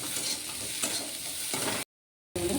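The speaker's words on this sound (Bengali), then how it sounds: "পেঁয়াজটা সুইট কর্নটা কষানো হয়ে গেছে" Onion and sweet corn sautéing in a pan, giving a steady close sizzle with scraping stirs, broken by a brief gap of silence before the frying resumes.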